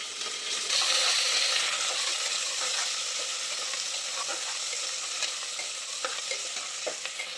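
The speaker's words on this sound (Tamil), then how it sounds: "கருவேப்பில போட்டுடலாம் மிளகா போட்டுக்கலாம் வெங்காயம் போட்டுட்டு அப்புறம் பச்சை மிளகா போட்டுக்கலாம்" Curry leaves, dried chilies and onion sizzle and crackle in hot oil, a close, steady frying hiss with occasional sharp pops and stirring scrapes.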